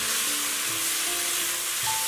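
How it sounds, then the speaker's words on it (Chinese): Celery and egg stir-fried in a pan over high heat, a steady close sizzle with faint stirring scrapes running throughout, no voices. "把鸡蛋也加进来，翻炒均匀就可以出锅了。"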